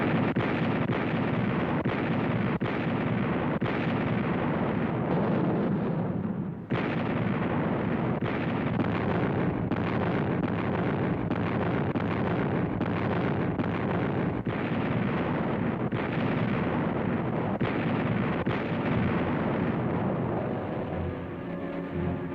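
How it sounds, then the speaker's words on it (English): American artillery guns open fire at the start of the 442nd's diversionary attack on the German Gothic Line in 1945, a dense, continuous rumble of heavy booms overlapping one another, with one sharper blast standing out partway through. "The big guns of the American artillery signal the beginning of the 442nd diversionary attack on the German Gothic line."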